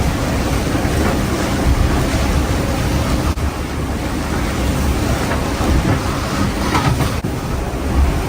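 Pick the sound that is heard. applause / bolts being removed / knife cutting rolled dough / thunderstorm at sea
thunderstorm at sea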